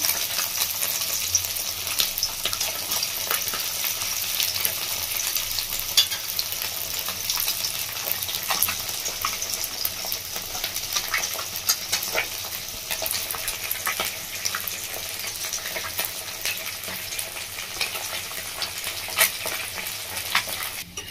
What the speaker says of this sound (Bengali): মাছটা দিয়ে এবার ভেজে নেবো ভালো করে।